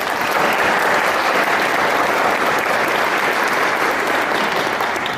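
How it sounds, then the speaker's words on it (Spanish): Steady, full applause from a conference audience fills the room continuously after a speaker, a judicial magistrate, is introduced, with no talking over it. "a quien brindamos un fuerte aplauso"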